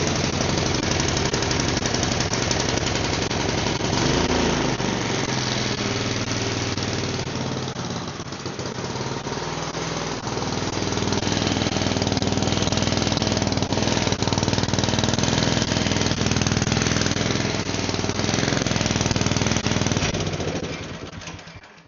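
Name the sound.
small petrol engine starting and running after coil fix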